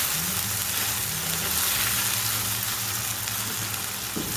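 Chopped tomatoes with salt sizzle and fry steadily in a pan while being stirred, a close, continuous crackle with faint scraping and no talk.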